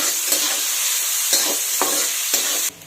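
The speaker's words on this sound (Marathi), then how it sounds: "आता थोडा वेळ मी फुल गॅसवरती परतून घेणार आहे." Onion and green chili sautéing in a pan on full flame, a bright continuous sizzle broken by several rhythmic spatula scrapes, close up with no voices.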